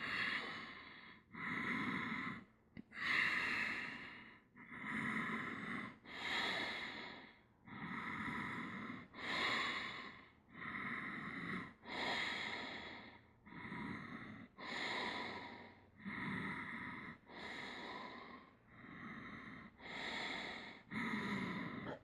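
A person does deep, rhythmic breathing in yoga boat pose, about a dozen loud, close inhales and exhales at a steady pace of roughly two seconds each, some with a nasal, snort-like edge, and no talk.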